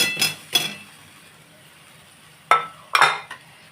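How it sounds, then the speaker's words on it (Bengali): Fried fritters go into a pan of yogurt curry for dahi pakora: a couple of soft clinks and plops, a quiet pause, then several sharper utensil knocks against the pan. "এবারে দেখুন এই ফুলুরিগুলো দিয়ে দিচ্ছি এর মধ্যে"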